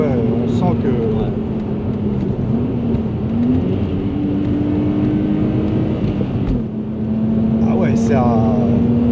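A 1994 Audi coupé engine hums steadily and climbs gently in pitch as it accelerates, staying loud and close under continuous conversation from people inside the car.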